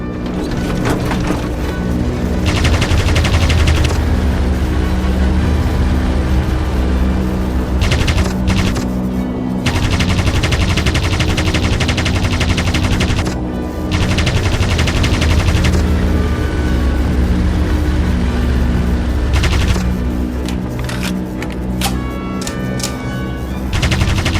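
Vickers machine gun in the air-combat game Aviators fires in long sustained rattling bursts, loud and close, with brief pauses between volleys over a constant droning engine.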